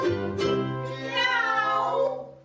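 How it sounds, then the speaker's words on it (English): A cat meows twice, a short cry followed by a longer, drawn-out rising meow, close and clear against silence. "Meow."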